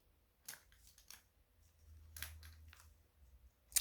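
Scissors, including pinking shears, cutting out paper shapes of spiders and bats: a few quick, sharp snips spaced apart, close and quiet, with faint rustling of paper between cuts.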